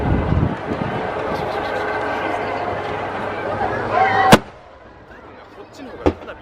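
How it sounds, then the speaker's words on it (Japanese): Fireworks at the 29th Naniwa Yodogawa fireworks festival in 2017, with a continuous rumble of bursts under crowd chatter, then a sharp near bang followed by a fainter later pop. "こっちの方が花火は近いと思う。"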